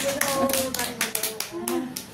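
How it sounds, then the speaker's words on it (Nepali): Several people clap hands at a Tihar family gathering, a quick run of sharp claps in an uneven rhythm, close by, with voices talking and a tonal hum underneath. "ताली बजाऊ सबैले"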